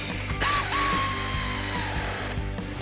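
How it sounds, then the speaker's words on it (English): An air ratchet drives a socket to tighten a bolt on a car headlight assembly, its steady whirring buzz running close and loud for about three seconds, with a brief pause near the start. "Austin has the air ratchet in place on the socket. He's going to tighten it"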